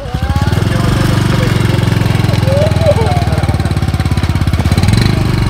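A motorcycle engine idles close by with a rapid, even chugging pulse that holds steady throughout, while people talk over it.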